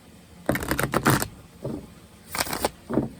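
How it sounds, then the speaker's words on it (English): Quick papery riffles and flutters of gilded tarot cards being shuffled, in two or three bursts with short pauses between, close and fairly quiet. "These cards are a little different to shuffle."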